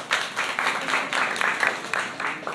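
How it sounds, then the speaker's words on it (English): Audience applause fills a hall after a costumed Civil War–era presentation, a dense, steady wash of many hands clapping close and loud for about two and a half seconds with no talking over it. "Give him a big hand."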